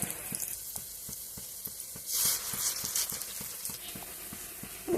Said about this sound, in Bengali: আগে বড়াগুলি ভেজে নিই।